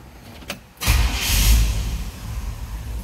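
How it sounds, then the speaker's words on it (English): A 1972 Chevrolet Custom 10 pickup with a 350 V8 cranks briefly and fires up fast, settling into a loud, steady, close idle rumble with no talking. "See how easily that 350 starts."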